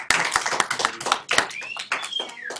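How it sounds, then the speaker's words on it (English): A small group in a math classroom claps in distinct, uneven slaps, close and fairly loud, with a few individual claps standing out and voices talking over the end. "big round of applause for Miss Catherine."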